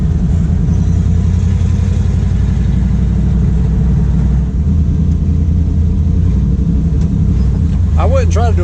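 A turbocharged Chevrolet Suburban with an LS-type V8 cruises along, its loud, steady low rumble filling the cabin throughout while a voice talks over it.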